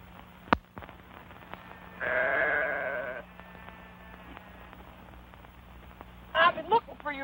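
Sheep bleat in a 1937 western film, a wavering call near the start followed by a later burst of shorter, shakier bleats over a low steady hum, fairly close and moderately loud.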